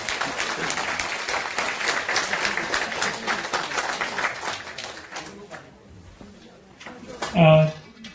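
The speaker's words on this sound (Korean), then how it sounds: "열강을 해주신 이전 총재님께 다시 한번 큰 박수 부탁드립니다" Audience applause after a lecture at a community special-lecture gathering in Gangnam, a broad patter of clapping that fades out after about five seconds, followed by a quieter stretch and a brief louder voice near the end.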